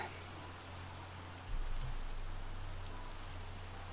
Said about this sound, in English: I'd like to sleep to get rid of this rain for a second